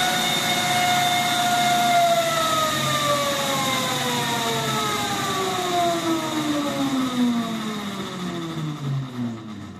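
A Horwin SK3 electric scooter run at full throttle in riding mode 3 with two batteries connected and no rider aboard gives a loud, steady electric motor whine that climbs in pitch, with several harmonics sweeping together across the whole run.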